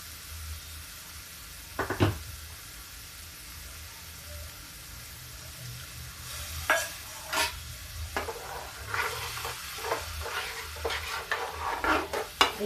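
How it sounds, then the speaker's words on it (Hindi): Tomato paste stirred into pointed gourd and potato frying in a pan, a quiet sizzle at first, then a sharp knock and, later, a run of spoon scrapes and clatters over the hiss. "अब डालते हैं इसमें हम टमाटर का पेस्ट।"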